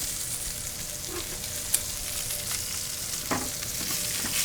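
Steaks sear in a hot pan with a steady, broadband sizzle throughout, plus a few soft clicks and a brief brighter crackle partway through, close and continuous with no talking.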